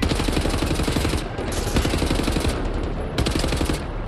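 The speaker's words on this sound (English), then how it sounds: "Let's take out the assault rifle for now on." Sustained rapid assault rifle fire in the video game Wolfenstein: The New Order, loud and close, in dense automatic bursts with brief pauses, layered with explosions and battle noise.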